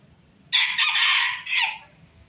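A small ornamental bantam rooster crows loudly and close by in one long, bright call that breaks off into a short trailing cluck, with quiet background between.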